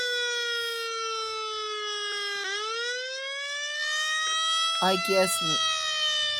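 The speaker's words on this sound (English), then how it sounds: "we need to kill the siren" A Pierce Enforcer fire truck siren in the Fire Truck Simulator game wails loud and continuous, its tone dipping and climbing slowly, while someone speaks briefly near the end.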